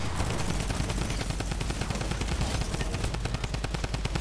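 Rapid, continuous minigun fire in Fortnite rattles throughout, dense automatic bursts with a steady, loud mechanical rhythm.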